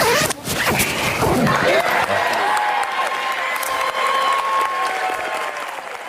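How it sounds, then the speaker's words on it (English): A clothing zipper pulled open to reveal a shirt during a college football signing announcement, a quick bright rasp at the start followed by loud, sustained applause and cheering from a crowd. "that zipper's sound was him revealing the university he was attending"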